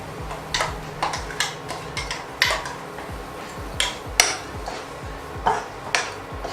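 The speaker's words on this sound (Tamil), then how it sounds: "ஒரு நிமிஷம் நம்ம கிளறிப்போம்." A spoon stirs butter bean white kurma thickened with extra coconut paste in a pan, giving a run of close, fairly loud scraping knocks and clinks at an uneven rhythm, with no talking.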